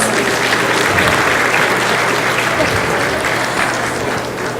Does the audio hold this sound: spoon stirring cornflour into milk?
no